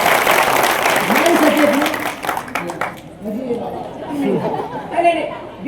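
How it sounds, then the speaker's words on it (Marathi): An audience at a devotional kirtan gathering claps for a doctor in the crowd, a short burst of applause that fades after about two seconds into murmured chatter and someone speaking. "डॉक्टर साहेबासाठी टाळ्या वाजवायच्या"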